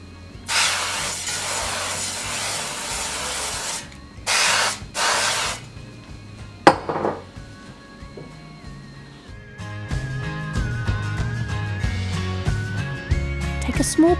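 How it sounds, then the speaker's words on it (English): Oil mister spraying into an air-fryer basket in a kitchen, a long hiss followed by two shorter bursts, then a clatter and quieter handling noises with music underneath. "Mist the basket with oil."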